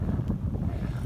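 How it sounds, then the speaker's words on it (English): Strong wind buffets the microphone outdoors at an evening bridge, giving a steady low roar with gusty swells for about a second and no voices. "Oh yeah, it's blowing stronger."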